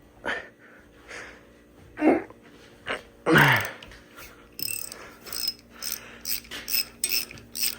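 A ratchet works tight, over-torqued head bolts loose on a 1943 International I-4 engine, giving irregular clicking bursts and a loud creak as one breaks free, close and alone.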